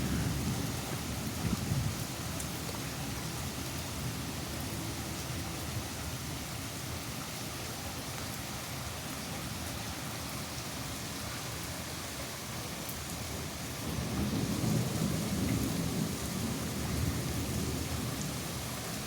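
Steady rain falls outdoors during a thunderstorm, a constant dense hiss with low rumbling underneath that swells louder near the end, with no voices.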